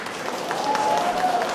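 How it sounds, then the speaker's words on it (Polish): Audience applause at an outdoor festival honouring pollard willows, a short, steady patter of clapping from a small crowd that swells slightly toward the end. "Duże brawa."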